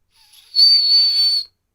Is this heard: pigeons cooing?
no